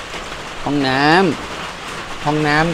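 Steady rain falls outside a guesthouse in Nan, Thailand, a soft continuous hiss under someone speaking close by in two short phrases.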